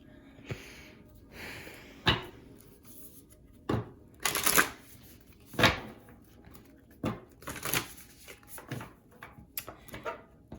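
Tarot and oracle cards shuffled by hand on a desk, coming in repeated crisp riffling bursts and soft slaps separated by short quiet gaps, close and moderately loud.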